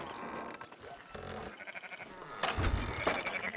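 Sheep in Red Dead Redemption 2 bleat several times in a row, close and fairly loud, their wavering calls overlapping amid faint ambient game sound.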